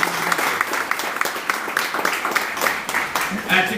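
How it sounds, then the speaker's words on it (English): A crowd applauds steadily, many hands clapping at once, with voices mixed in underneath. "Give a big round of applause."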